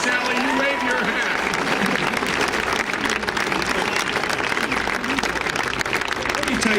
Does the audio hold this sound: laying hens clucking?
no